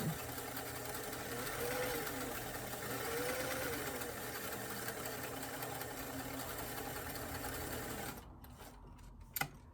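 A sewing machine stitching the outline of a doll glove runs with a steady, close mechanical whir for about eight seconds, then stops, leaving a few faint clicks.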